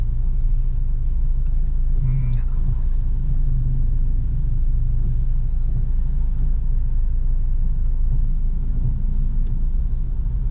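Road traffic near SM Clark in the Philippines at about three in the afternoon as school lets out, heard as a loud, continuous low rumble of passing cars and engines throughout.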